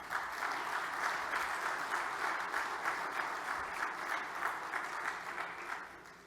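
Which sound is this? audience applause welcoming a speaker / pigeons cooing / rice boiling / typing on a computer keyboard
audience applause welcoming a speaker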